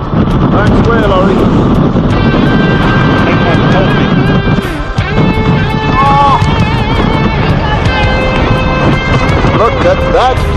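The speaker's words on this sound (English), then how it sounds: "be careful with the wind" Wind gusts over a boat out on open water, a steady rough rush filling the clip while people talk close by.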